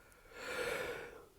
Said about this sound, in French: Excusez-moi, je baille.